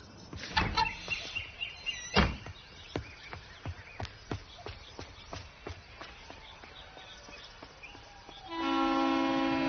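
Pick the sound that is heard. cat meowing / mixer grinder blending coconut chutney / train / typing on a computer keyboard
train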